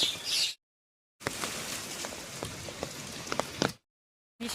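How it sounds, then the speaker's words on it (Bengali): Steady rain falls on a rainy day in a village, a dense, even patter of drops close by with a few sharper splashes, cut off by two short silent gaps. "বৃষ্টি পড়েই চলেছে গতকালের মতন,"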